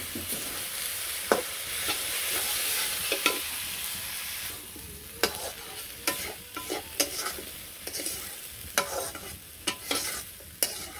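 Shing fish frying in a pan with fried onion and garlic: a steady sizzle with repeated scraping clicks from a stirring spoon, close and clear, with no one talking.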